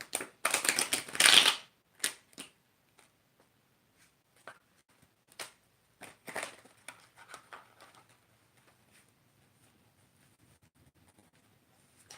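A deck of cards shuffled up close, starting with a loud riffle burst, then scattered quieter snaps and flicks that fade into near silence.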